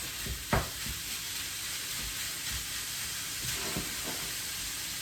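Minced beef frying in hot oil in a pan, a steady close sizzle with a few brief bursts of spatter and stirring scrapes.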